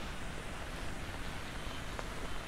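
Steady rain falls on a bridge at Gardens by the Bay in Singapore, making a soft, even hiss that runs unbroken and close, with no voices.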